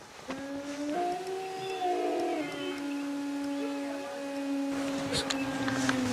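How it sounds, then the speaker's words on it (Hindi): Wolves howl at night in the Thar desert, long tonal wails that rise and hold over several seconds, moderately distant, with faint rustling and other noises near the end. "भेड़िए की आवाज़ थी।"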